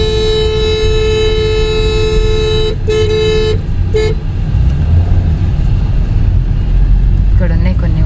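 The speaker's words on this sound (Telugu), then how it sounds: "హారన్ కొట్టు" A car horn blares in one long, loud, steady tone, then sounds a few shorter toots, with engine and road noise underneath near a river bridge where goats are crossing.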